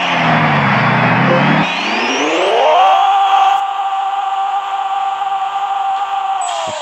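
A Prius fitted with a titanium exhaust revs up, its engine note climbing over about a second and a half and then holding a loud, steady high-pitched drone.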